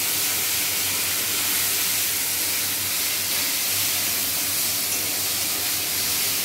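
Grated mango hitting hot oil seasoned with fenugreek, mustard seeds and dried chillies, a steady loud, broad frying hiss that holds evenly throughout with no talking.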